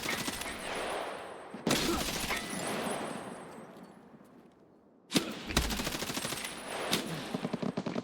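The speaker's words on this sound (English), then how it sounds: "Where are they shooting me from, man?" Gunfire in the video game Escape from Tarkov: two loud bursts of rapid automatic fire, the first trailing off into a fading echo and a brief quiet, then another burst followed by quicker shots.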